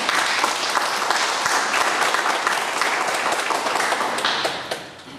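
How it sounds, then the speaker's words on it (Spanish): Loud, dense audience applause welcoming a law lecturer to a procedural law talk, a continuous strong wash of many hands clapping that fades slightly in the last moment. "para quien pido por favor un fuerte aplauso"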